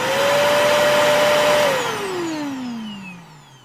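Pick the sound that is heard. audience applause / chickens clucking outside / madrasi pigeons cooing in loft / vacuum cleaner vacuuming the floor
vacuum cleaner vacuuming the floor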